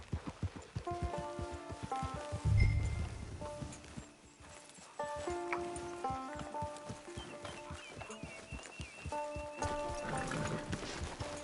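A horse in the video game Red Dead Redemption 2 walks with a steady clip-clop of hooves, snorting briefly, amid soft music and ambient background.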